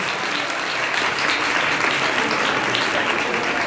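A church congregation at a healing prayer gathering gives sustained, dense applause that stays loud and even throughout, with no voices on top.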